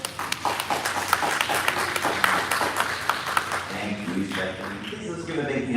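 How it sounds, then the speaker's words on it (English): Audience applause at a live launch event, a round of clapping that fades as a voice starts talking over it in the final seconds. "please give a big round of applause to Dr."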